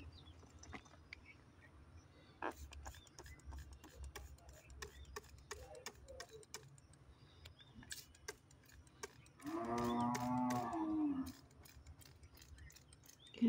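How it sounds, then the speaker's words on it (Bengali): A cow tethered at the house next door moos once in a sustained, fairly loud call that stands out from a quiet outdoor background of faint ticks and rustles. "পাশের বাড়ি একটা গরু আছে"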